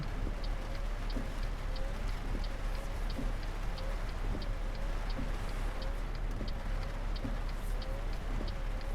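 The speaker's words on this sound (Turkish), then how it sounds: "Ne güzel geliyor yağmur sesi ya" Steady rain hissing in the Euro Truck Simulator 2 video game while the truck waits at a traffic light, faint and continuous, with a regular ticking indicator pattern beneath it.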